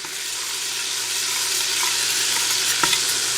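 Butter melting in a pot for a Mexican chicken corn chowder gives a steady, soft sizzle that holds evenly throughout, with one brief clink of a utensil near the end and no voices.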